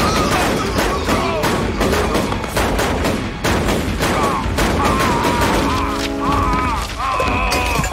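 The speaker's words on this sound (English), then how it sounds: "This time, Lucy gets in on the gun action." Gunfire rings out in a TV episode shootout, a dense run of shots packed together under a loud, busy mix of music and other sound across the whole stretch.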